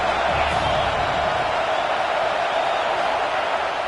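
A home stadium crowd roars in the NCAA Football 26 video game as a dense, steady wall of noise that stays loud and unbroken throughout.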